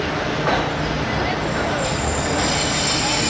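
Pakistan Express train rolling between Dina and Rawalpindi, its wheels on the rails making a steady, loud, continuous rumble with a faint squeal, heard close from on board throughout.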